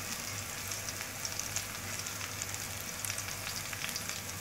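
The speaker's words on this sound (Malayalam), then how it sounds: "ഗരം മസാല എല്ലാം ഇട്ട് നന്നായിട്ട് ഇതിൻ്റെ പച്ചമണം പോകുന്നത് വരെ ഒന്ന് വഴറ്റിയെടുക്കാം" Coriander powder and chilli powder sauté in a pan for beef masala, giving a quiet, even hiss of frying. It carries on without pause, with faint crackles and no voices.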